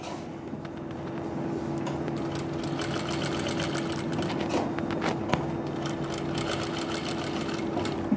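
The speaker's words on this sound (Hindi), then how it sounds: "सिलाई देखो मैं कैसे लगा रहा हूँ" A sewing machine runs steadily, stitching a garment neckline reinforced with buckram, its even mechanical hum and needle clatter continuing without pause throughout.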